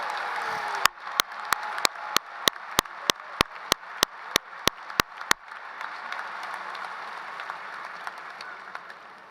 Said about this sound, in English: please stand so we can recognize you and applaud your efforts